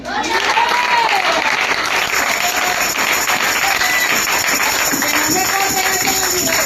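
Dense, steady applause from a church congregation at an anniversary service fills the room without pause, with voices calling out faintly beneath the clapping.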